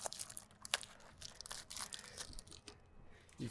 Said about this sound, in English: I'm just going to wad this up, get it nice and tight so I can spray